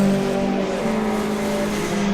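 Cars drive past at an electric vehicle festival, a steady close rush of road and tyre noise with faint tonal whine, continuous with no talk.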